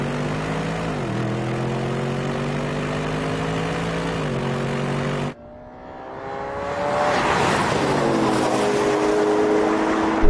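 A Porsche Cayenne Turbo in a drag race pulls away under hard acceleration, engine note climbing through gear changes, then a sudden drop and a fresh wide-open roar as the run continues.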